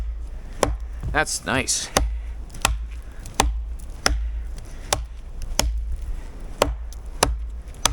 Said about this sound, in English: Now we are chopping aspen here,